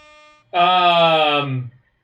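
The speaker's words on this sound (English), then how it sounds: "The air horn?" A single loud, sustained horn blast with a brassy, buzzing tone, lasting just over a second before cutting off abruptly.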